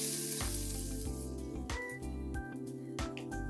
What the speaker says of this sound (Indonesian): Kemudian kita masukkan untuk bawang putihnya.